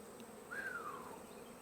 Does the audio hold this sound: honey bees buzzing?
yes